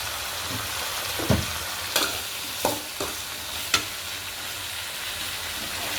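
Tomato chutney with red chillies sautés in a pan, a continuous soft sizzle broken by several sharp scrapes and knocks of a spoon stirring against the pan, with no voices.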